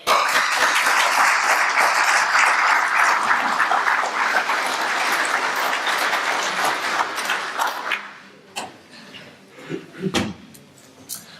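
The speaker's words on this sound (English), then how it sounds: "So big round of applause for Ian." Conference audience applause fills a hall, dense and sustained clapping for about eight seconds before thinning into a few scattered claps and small noises.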